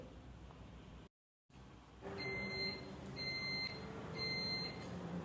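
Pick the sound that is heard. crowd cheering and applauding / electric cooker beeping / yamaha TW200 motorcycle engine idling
electric cooker beeping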